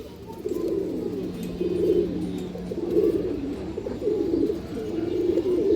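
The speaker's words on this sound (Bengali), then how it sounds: "অনেক সুন্দর একটা কবুতর মাশাআল্লাহ।" A pigeon coos close by in a steady series of low, throaty, rolling calls, repeating without pause.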